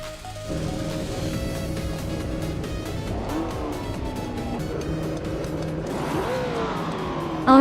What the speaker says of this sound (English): the race is underway at Autodromo de Antioquia